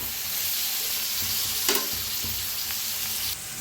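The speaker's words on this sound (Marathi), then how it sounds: "आपण घेवडा भाजून घेतला होता ते ह्याच्यात मिक्स करूया." Roasted broad beans (ghevda) are stir-fried with masala in a pan, giving a steady, moderately loud sizzle with one sharp spatula scrape midway and lighter stirring sounds.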